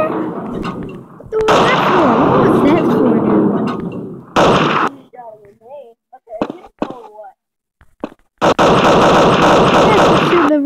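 Video game gunfire and rocket launcher explosions in a cops and robbers match, coming in dense loud bursts that alternate with stretches of voices talking over them.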